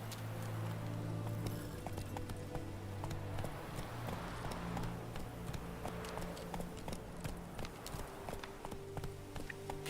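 Hooves of the horse in The Witcher 3: Wild Hunt pound in a steady galloping rhythm, a continuous clip-clop run over a low droning game backdrop, moderately close.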